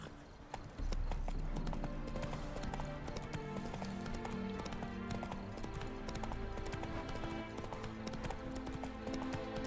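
Roach, a horse in the Witcher 3 video game, walks along with a steady rhythmic clip-clop of hooves over a dense layer of game music and ambience, continuous and fairly loud throughout.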